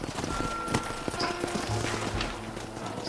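Horse hooves clip-clopping in Red Dead Redemption, several horses plodding in an uneven rhythm at close range, with a brief whinny and game ambience underneath.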